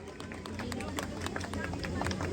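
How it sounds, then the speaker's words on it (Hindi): Scattered clapping from an audience at an Independence Day poetry event in Indra Nagar, Delhi, as a young poet is applauded; quick, uneven claps over crowd chatter, moderately loud throughout. "जोरदार तालियां हो जाए हमारी उभरती कवित्री के लिए।"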